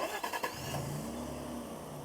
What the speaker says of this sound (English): in order to remote start the vehicle, all you're gonna do, push the lock button once, push and hold that circle button within a few seconds.